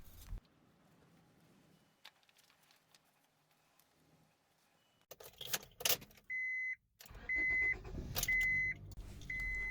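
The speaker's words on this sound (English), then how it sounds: "start the car so it builds oil pressure" A 2001-2005 Honda Civic being started after an oil change: quiet shuffling, then the ignition cranks and the engine catches and idles, with an intermittent warning chime beeping repeatedly over the running motor.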